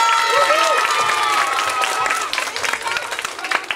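Audience applause at a French stage show with dancers in Épinay, honouring the light and sound technician: dense clapping fills the room at moderate volume, thinning toward the end as a voice starts speaking over it.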